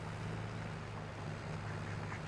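Ducks quacking in the Farming Simulator video game, a continuous low, faint layer of nasal quacks over a steady ambient hum with no one speaking.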